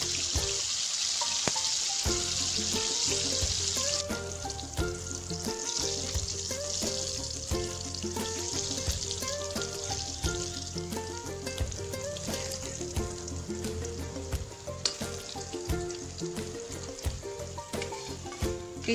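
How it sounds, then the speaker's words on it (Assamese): Raw banana pieces fry in hot mustard oil in a wok, giving a steady, bright crackling sizzle that holds throughout with occasional stirring clinks, close and fairly loud, with no voices. "এইখিনি ধুনীয়াকৈ ভাজি ল'ব লাগিব"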